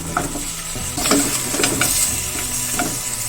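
Cleaned pork knuckles sizzle loudly in a pan of hot oil with fried shallots and ginger, with constant crackling and metal spatula scrapes close by.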